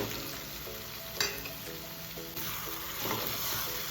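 Brinjal pieces hit a hot pan of masala, making a quiet, even sizzle with a brief louder burst, under a faint steady tonal hum.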